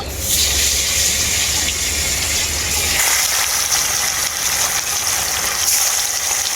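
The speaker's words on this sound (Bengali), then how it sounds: "বাকি মাছগুলো আমি একইভাবে ভেজে নেব" Rupchanda fish, part of a 1.5 kg fish, fries in hot oil in a pan, giving a loud, continuous sizzle that shifts and thins partway through, with no talking.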